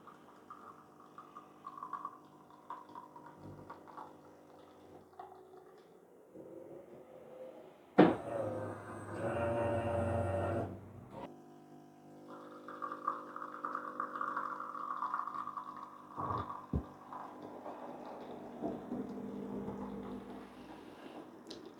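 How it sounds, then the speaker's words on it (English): A Beko CaffeExperto CEG7304X bean-to-cup coffee machine pumps and dispenses coffee, a loud burst of mechanical whirring and liquid flow standing out for a few seconds amid quieter background sounds. "You now can hear it dispensing the coffee."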